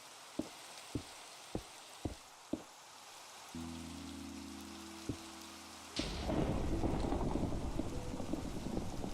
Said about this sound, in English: That was lightning. What did the lightning just hit?